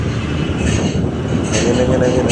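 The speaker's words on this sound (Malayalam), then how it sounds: "ഇതേ പോകുന്ന മെട്രോ കാര്യമായിട്ട് ഞാൻ വീഡിയോ എടുത്തു" A Bengaluru metro train rumbles past close by at night near Ulsoor Lake, a loud continuous roar of wheels on rails with some high squealing.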